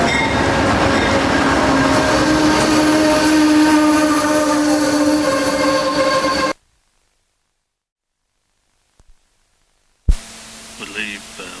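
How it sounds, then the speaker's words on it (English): An Amtrak Empire Builder passenger train rolls past loudly and steadily for several seconds with a rumbling roar and sustained tonal hum, then cuts to near silence before a short burst of other sound near the end. "This is our train."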